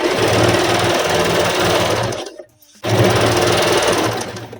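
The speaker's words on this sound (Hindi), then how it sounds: "इस वाले पार्ट को हमें ऊपर से लॉक करते हुए पूरा सिल लेना है।" Electric sewing machine running loudly in steady bursts while stitching the four kali panels of a petticoat, stopping briefly for about half a second before resuming the continuous whirring, clattering stitch rhythm.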